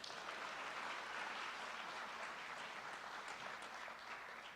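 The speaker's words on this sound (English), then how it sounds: "Let's give the Jefferson community a round of applause." A school audience at a Jefferson High signing ceremony applauds, a steady wash of clapping that holds evenly throughout at moderate loudness, fairly distant and with no voices over it.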